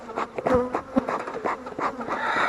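Honeybees buzzing loudly and close during a hive inspection, an irregular swarm of overlapping drones and sharp wingbeat bursts rising and falling without speech.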